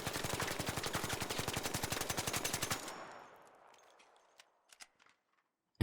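The Stitcher weapon fitted with a muzzle brake fires a rapid automatic burst in ARC Raiders, a steady string of sharp, evenly spaced shots for nearly three seconds, then a fading tail and a few faint clicks.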